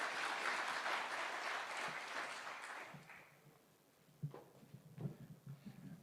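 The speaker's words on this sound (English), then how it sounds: "A round of applause" Applause at the launch of the Call Centre International global contact centre rings out full for about three seconds, then thins and dies away, leaving a few scattered thuds and footstep-like knocks.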